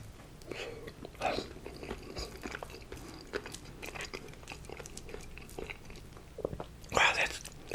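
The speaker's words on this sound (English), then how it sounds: "let's try this baked potato" Whispered ASMR eating of a hot baked potato topped with bacon and sour cream, with soft bites and wet chewing close to the mic, quiet between mouthfuls and louder crunchy bursts near the end.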